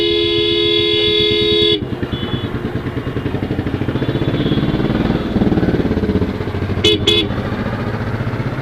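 A car horn blares in one long, loud blast, then cuts off into a running engine rumble, with two short toots sounding later amid the road noise.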